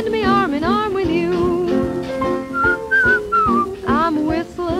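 Melodic human whistling from a 1934 recording, clear sliding tones over a steady old dance-band accompaniment, loud and continuous.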